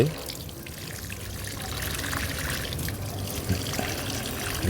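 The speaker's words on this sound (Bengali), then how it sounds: "এবার আমি এই যে দেখুন গাছগুলোতে জল দিয়ে" Water is poured onto repotted tissue-culture hibiscus seedlings, giving a soft, steady trickle close by. A voice speaks over it.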